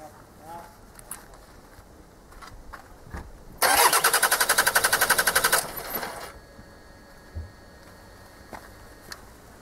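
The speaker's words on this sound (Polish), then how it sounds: "Przechodzę do próby odpalenia silnika." A car starter cranks rapidly for about two seconds, loud and rhythmic, then stops without the common-rail diesel engine catching; quiet clicks and faint talk surround it.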